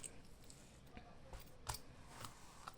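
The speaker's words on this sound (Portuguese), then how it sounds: "Vou cortar esse fio aqui." Scissors make a few faint, sparse snips as they cut crochet yarn close by, with one sharper click standing out against a quiet background.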